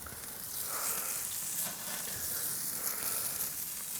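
A few drops of olive oil sizzle on a grill fire beneath a cedar-plank salmon, a steady hiss and crackle of frying at low volume with no talking.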